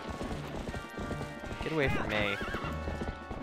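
The horse Epona galloping in the video game Zelda: Twilight Princess on Wii U, rapid rhythmic hoofbeats with a sharp neigh in the middle, under someone talking.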